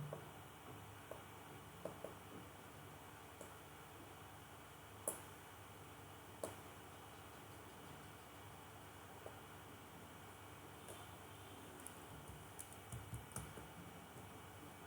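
Faint, sparse keystrokes on a computer keyboard while searching for the EMA indicator in a trading chart; scattered single clicks and a short burst of quick taps over a steady hiss, with no talk.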